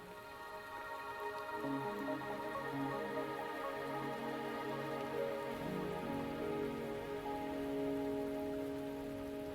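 Steady rain falls in the Wuthering Waves video game, a continuous even hiss mixed with a sustained tonal music bed, with no talking.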